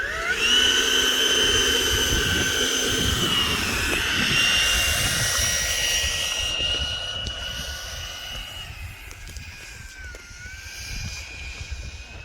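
An E-flite 80mm F-16 RC electric ducted-fan jet in a demo flight, a loud, high whine with shifting pitch as it passes, fading somewhat toward the end, no talk.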